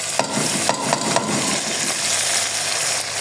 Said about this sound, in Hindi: ये लहसुन अदरक भी जाएगा ताकि इसमें अच्छे से फ्राई हो।